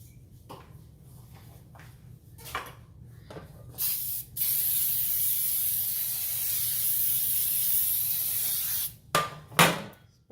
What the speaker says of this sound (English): I'm gonna spray my pans down.